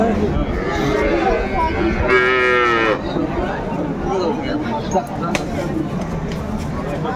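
Cattle low at a busy rural cattle market where dairy cows and calves are sold, one drawn-out moo rising clearly above constant crowd chatter and nearby voices.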